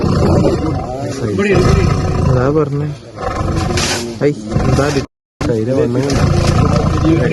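A caged tiger at Barapole in Kannur roars loudly and repeatedly from close by, its deep calls filling the scene as people talk over and between the roars.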